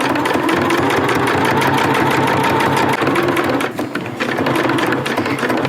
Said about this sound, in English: Get to the end, I'm gonna go slow. And lock stitch.